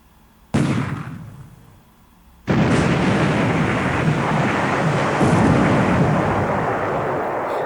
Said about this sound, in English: 6-inch, 8-inch hitting my belt armor